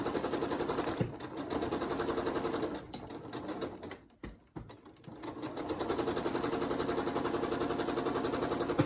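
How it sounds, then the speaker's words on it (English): A sewing machine stitching a log cabin quilt piece runs in a steady, fast mechanical whir, briefly slowing and pausing in the middle before resuming at full speed, close and alone. "take this to my sew machine, and sew it on."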